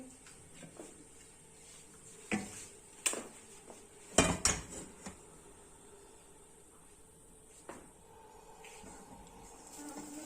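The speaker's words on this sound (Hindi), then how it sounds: "इसको रखेंगे चूल्हे के ऊपर और ये वाला दूध भी हम चूल्हे के ऊपर रख देंगे।" Metal pots of milk set down on a kitchen stove while preparing rasmalai, giving a few sharp clanks and clatters, the loudest cluster around the middle, over a quiet room with no talking.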